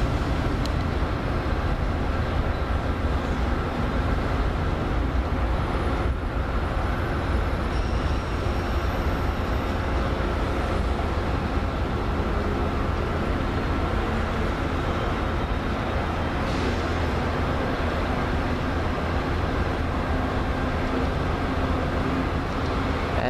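An Amtrak Keystone train passes at close range, a loud, steady rumble and roar of rolling stock that holds unbroken for over twenty seconds with no talk over it.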